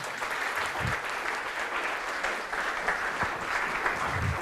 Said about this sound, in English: Please have a big round of applause for sir.